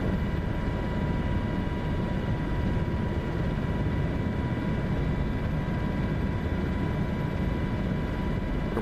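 A helicopter in a flight video game buzzes near a town at about 167 knots, making a constant droning rotor and engine hum with steady tonal whine throughout.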